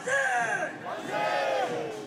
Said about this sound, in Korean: 어둠을 밝힌 횃불 물결 속에 만세 소리가 울려 퍼집니다.